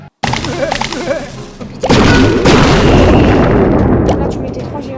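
Wall breakers blow up in a Clash of Clans attack, with a loud booming blast after about two seconds that keeps rumbling to the end. It follows a busy stretch of game battle noise.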